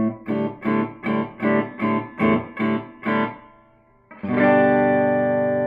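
Distorted electric guitar through an amp with the treble raised plays eight chugging palm-muted hits in a steady rhythm, then rings out on a bright, sustained chord.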